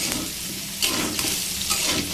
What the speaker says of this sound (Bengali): আর এইদিকে আমি যে সবজিটা ভাজি বসিয়েছিলাম